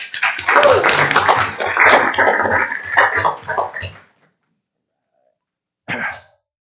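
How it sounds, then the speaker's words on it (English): Audience applause for a council clerk at a city council meeting, a dense burst of clapping lasting about four seconds that fades to silence, then a brief second patter of claps. "let's give her a round of applause"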